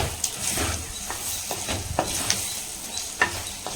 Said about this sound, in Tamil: ஆயிலில் வெண்டைக்காய் வந்து சேர்த்துக்கணுங்க. சேர்த்துட்டு மிக்ஸ் பண்ணிக்கலாம்.